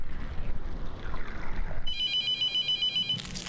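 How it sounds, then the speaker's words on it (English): A telephone rings in the horror game The Mortuary Assistant, a bright electronic trill that cuts in over low rumbling ambience and wind-like noise partway through, ringing once at moderate volume. "Are you really gonna make me answer this fucking phone?"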